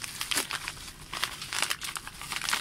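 Hands tear open a sealed, bubble-wrapped parcel without scissors, giving a close, continuous run of crinkling plastic and ripping bursts.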